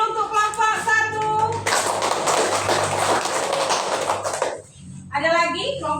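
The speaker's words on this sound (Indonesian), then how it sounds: "Tepuk tangan dulu untuk kelompok 1" A school class claps for group 1 in a short burst of quick, bright handclaps, with a teacher's voice speaking before and after the clapping.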